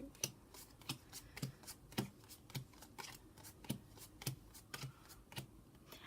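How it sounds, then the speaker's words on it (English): Cards for the Exploding Kittens game are shuffled up close, a series of quick crisp riffles and snaps arriving in an uneven rhythm of about a dozen bursts. "So yes, it does involve a little bit of shuffling every now and again"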